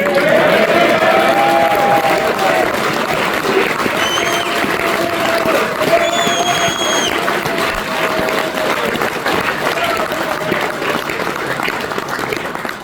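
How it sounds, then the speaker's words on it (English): A crowd at a political speech in Northern Ireland applauds in a long, steady wash of clapping with faint cheering and a few whistles, sustained at even loudness before tapering at the end. "Don't just applaud that, folks."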